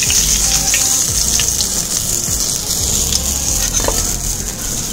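Fish fingers frying in hot oil, giving a steady, close crackling sizzle throughout with occasional soft pops and clinks, and no voices.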